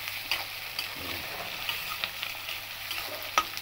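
Sliced capsicum fries in a pan with a continuous close sizzle and crackle, a few soft stirring scrapes rising above the hiss, and no talk.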